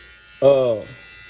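A BaBylissPro FlashFX cordless hair trimmer switches on and runs at 6,000 RPM, a close, steady electric buzz with strong harmonics that starts abruptly and holds for under half a second before dropping away.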